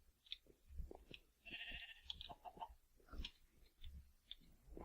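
Blocky Minecraft sheep give short bleats amid clicky game sound effects, a handful of brief calls scattered through a quiet, sparse stretch.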